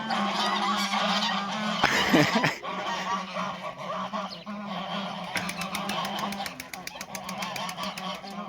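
A flock of geese honks loudly and continuously close by, with harsh overlapping calls, a burst of flapping or scuffling partway through, and a person talking underneath.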